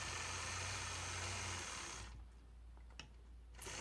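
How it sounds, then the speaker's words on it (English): A sewing machine stitches in the ditch around the outside of a triangle quilt block, guided along a 4-in-1 quilting ruler, whirring steadily and quietly for about two seconds before stopping, followed by a couple of small clicks. "stitching in the ditch all the way around the outside"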